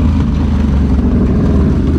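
A 2021 Can-Am Renegade XMR 1000R ATV engine drones loud and close in a steady, throaty rumble, with a churning wash as it pushes through a flooded trail by Lake Ontario.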